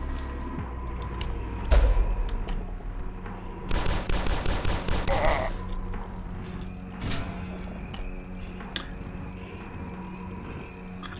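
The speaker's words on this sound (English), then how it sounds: "I'm dual-wielding shotguns?" Shotgun fire from two dual-wielded shotguns in the game Dusk, a single loud blast followed by a rapid string of heavy shots with mechanical clacks, then sparser hits over low game ambience.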